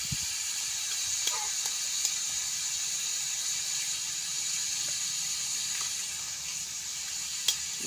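Shredded cabbage fries in a pan, giving a steady, even sizzle and hiss with a few faint clicks and one sharp tick near the end.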